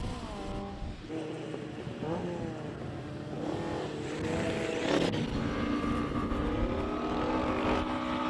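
Normally aspirated 2-liter 4-cylinder Pinto-engined Ford Escort race car at a Cape Town classic hill climb, revving through rising and falling engine pitches, moderately distant, growing louder midway.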